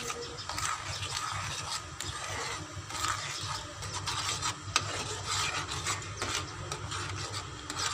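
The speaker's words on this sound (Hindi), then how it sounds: "इसको हम अच्छी तरह से पका लेंगे ताकि इसमें चीनी भी हल हो जाए" Mango glaze with sugar cooks in a pan while being stirred, a continuous rasping scrape of the spoon against the pan bottom with a low bubbling bed, steady and close for several seconds, no talk.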